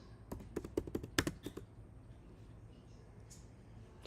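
Typing on a computer keyboard in a design-software session, a short flurry of crisp key taps in the first second and a half, then quiet room tone with a faint click near the end.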